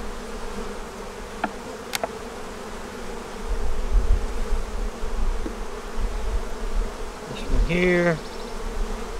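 Honeybees hum continuously in an opened hive with an unmarked queen, the dense buzz steady throughout while a nearby bee drones louder at moments and a brief spoken word appears near the start.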